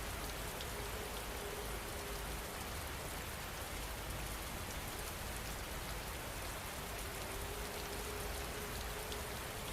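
Steady rain falling on a surface, a dense, even wash of drops that stays constant and soft throughout with no voices.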